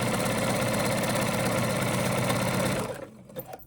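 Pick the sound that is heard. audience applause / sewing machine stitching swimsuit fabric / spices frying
sewing machine stitching swimsuit fabric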